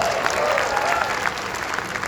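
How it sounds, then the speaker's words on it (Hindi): Men in an indoor event audience clap together in a steady, dense burst of applause, close and loud, with faint crowd murmur beneath. "पुरुष ताली बजा रहे हैं"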